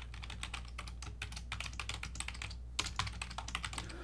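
Rapid keyboard typing on a computer while setting up a Google account, a steady run of close, crisp keystrokes with a brief pause midway and no voice.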